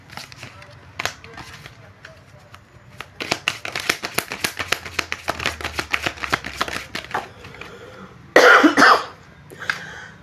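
Someone coughs repeatedly in a series of sharp, dry bursts close to the microphone, followed by a louder, harsher throat-clearing burst near the end.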